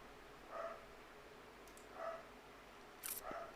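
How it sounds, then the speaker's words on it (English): A dog barks in the background, three single distant barks spaced about a second and a half apart, with faint clicks between them. "Excuse the dog on the background."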